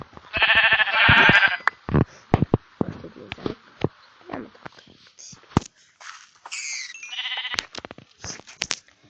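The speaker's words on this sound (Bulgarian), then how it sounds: "И добре да убием овците." Sheep bleating in the Minecraft video game as they are attacked, several short, bright game-sound bleats among clicks and hit noises, with a person talking in between.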